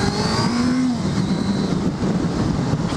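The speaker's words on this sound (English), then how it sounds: "Right, we're accelerating into a 40." Honda CB650F inline-four motorcycle accelerating hard in first gear up to about 40, a loud, continuous engine roar with a rising rev tone and rushing road noise throughout.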